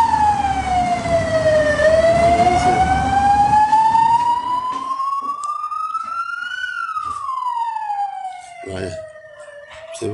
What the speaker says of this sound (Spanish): Se ve la ambulancia.